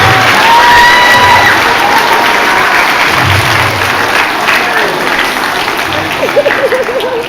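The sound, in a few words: audience applauding parents and grandparents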